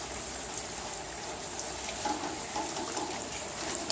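Water pours steadily onto the soil around a newly transplanted variegated ornamental ginger plant, Alpinia zerumbet, a continuous soft trickling and splashing close by with no talking.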